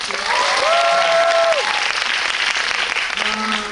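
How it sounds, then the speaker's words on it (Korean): A cinema audience at a film screening Q&A in a CGV theater breaks into steady, dense applause, with a brief feedback-like tonal whine ringing over the clapping near the start and again at the end. "네, 박수 한번 부탁드릴게요."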